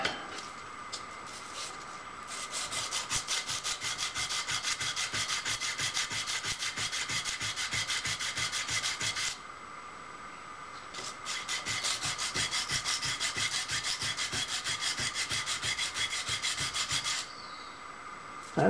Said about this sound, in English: I think we're going to get some sandpaper and a flat surface.